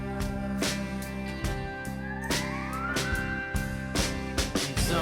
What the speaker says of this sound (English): a lap steel with a volume pedal and a ton of reverb. It sounds somewhere halfway between a trumpet and an air raid siren